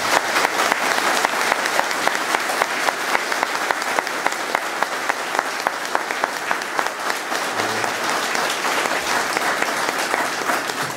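Dense, sustained applause from an indoor audience at the opening of La Tour d'Air museum in Boncelles, steady clapping filling the whole stretch at even loudness.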